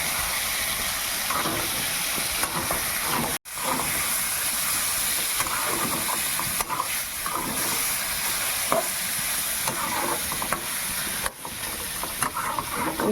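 Chicken pieces marinated in salt and turmeric sizzle loudly in a pan with lightly fried ginger and garlic, a continuous close hiss and crackle with one brief dropout.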